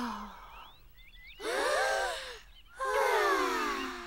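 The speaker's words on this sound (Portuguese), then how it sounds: "Respirem bem fundo este ar tão puro" Cartoon children at an outdoor campsite taking deep, exaggerated breaths: a soft sigh-like inhale followed by two long, loud, wheezy gasping breaths, alone without talk.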